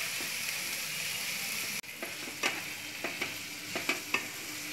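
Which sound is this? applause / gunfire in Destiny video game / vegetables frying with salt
vegetables frying with salt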